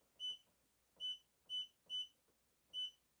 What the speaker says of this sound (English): Stop beeping at me when you're not done.